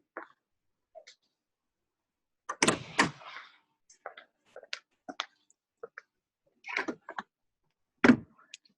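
A Lamborghini Espada's rear luggage compartment is opened with a sequence of close mechanical clicks and clunks, a louder latch-and-lid movement, then scattered small knocks and a final thump, set against near silence.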